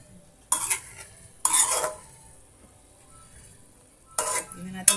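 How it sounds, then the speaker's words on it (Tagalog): Vegetables are sautéed in a pan, with three or four bursts of a utensil scraping and stirring loudly against the metal between quieter stretches of faint sizzling. "Ginisang gulay natin."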